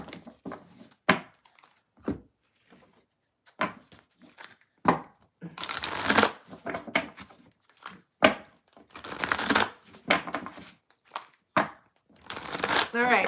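A deck of tarot cards is shuffled in a series of crisp riffling bursts and softer slides, repeating irregularly up close while a person talks at intervals.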